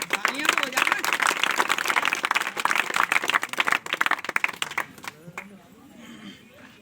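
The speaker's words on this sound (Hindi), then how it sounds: "तालियां तो हो जाना।" Lively applause from a seated audience at a society's foundation day celebration, crisp close claps in a dense burst that thins out and fades toward the end, with voices heard under it.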